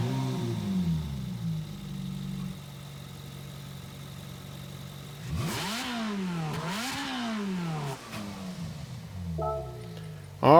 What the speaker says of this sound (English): here is my Ferrari 458 Italia. So I'm going to click on this car, we'll listen to the startup sound